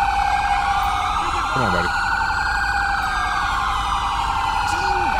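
Police car siren in GTA 5 with the LSPDFR mod, a loud continuous wailing tone that sweeps up and down with layered echoes, as someone speaks briefly over it.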